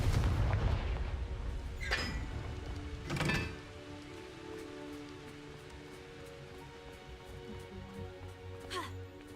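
Bombarda and Confringo spell blasts in the video game Hogwarts Legacy, heard as a few sharp, bursting impacts over a crackling, rain-like background, followed by fainter ambient sound.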